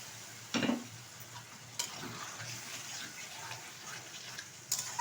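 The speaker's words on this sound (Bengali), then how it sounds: "সেটা ঢেলে দিচ্ছি কড়াইয়ে" Pressure-cooked mutton tipped into a kadai of cooked-down masala, with a sudden splat followed by continuous soft sizzling and a few scraping stirs, no voices.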